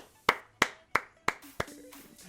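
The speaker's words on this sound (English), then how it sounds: "Huge round of applause." A few hands clap for a winning trivia team, five sharp, separate claps in an even rhythm, close and fairly quiet, then a brief trailing murmur.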